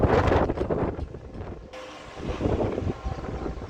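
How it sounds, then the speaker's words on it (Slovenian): Strong wind buffets outdoors on a cloudy day in Ajdovščina, Slovenia, a steady rushing roar with gusty bursts that rise and fall across the whole stretch, with no speech. "kjer je tako precej oblačno in zelo vetrovno vreme"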